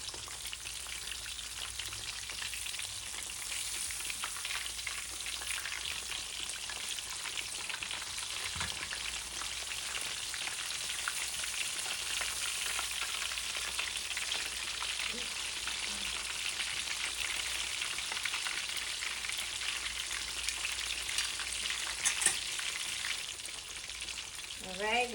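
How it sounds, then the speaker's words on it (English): Catfish frying in hot oil, a steady close crackling sizzle that runs unbroken throughout, with a few faint clinks near the end. "we got our fried catfish, nice, golden, and crispy"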